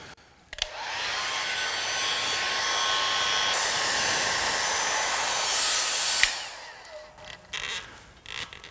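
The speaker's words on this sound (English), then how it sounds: "we're going to use our hairdryer just to heat it up" A hairdryer runs close by with a steady whirring blow for several seconds, heating a protective patch on a bicycle frame, then switches off, followed by a few small clicks and handling noises.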